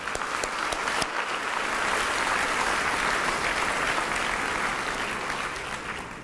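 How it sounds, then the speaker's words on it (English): A large crowd at a school district's State of the District event breaks into applause, a dense, continuous wash of clapping that swells and holds steady, then gradually thins toward the close. "So let's really show some applause for that."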